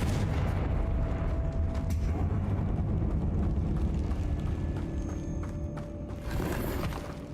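Confringo fire spell cast in the video game Hogwarts Legacy, a dense booming blast that rumbles throughout with a fresh burst near the end, loud and close with no talk.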